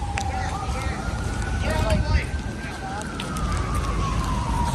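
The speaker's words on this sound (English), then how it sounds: "Oh no, I hear sirens in the background." Distant sirens wail with slowly rising and falling tones beneath heavy city noise and nearby voices outside the White House in Washington, faint but steady throughout.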